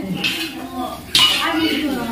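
Metal pots and utensils clink and scrape in a kitchen while khichdi is being cooked, two sharp clatters followed by lingering ringing, close by.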